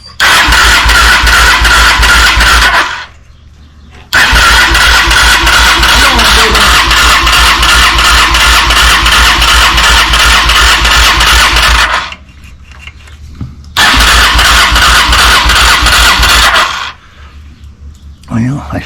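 A Honda Shadow motorcycle engine fires up and runs loud and close in long roaring stretches, cutting out briefly twice before catching again, with people talking nearby.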